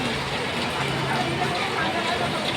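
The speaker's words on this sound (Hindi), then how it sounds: "और अब बारिश होने लगी है" Steady rain hisses and patters throughout on the streets of Old Delhi, a dense, even wash of noise.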